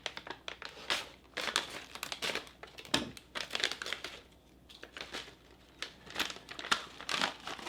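A plastic combat ration food pouch torn open by hand with no tear notch, a long run of close, loud crinkling and crackling plastic in irregular bursts.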